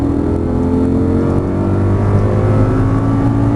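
An Audi R8 accelerating out of a corner on a racetrack at Exotics Racing in Las Vegas, its engine a loud, steady, close-up drone that builds slightly as the throttle opens.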